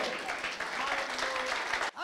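A congregation claps in praise at a church service, a dense sustained patter of many hands heard at moderate level with a faint tonal hum and voices underneath, ending with a short dip.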